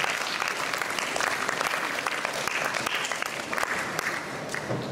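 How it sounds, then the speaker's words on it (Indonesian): Audience applause for the Nusa Makmur badminton team at a youth badminton camp in Sarawak, a dense, steady wash of many hands clapping that holds throughout. "Kita bagi tepukan kepada pasukan Nusa Makmur."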